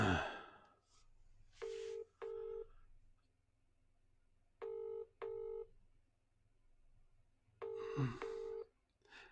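A push-button telephone is dialed to call social services: three pairs of short clear tones, roughly evenly spaced, sounding close and quiet, with faint breathing between them.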